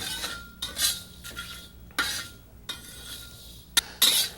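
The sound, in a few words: spices being dry roasted and stirred in a wok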